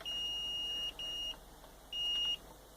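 A multimeter in continuity mode beeps while the power switch of a Roland SH-101 synthesizer is tested: three steady, high electronic tones of varying length with short gaps, close and clear over a quiet background.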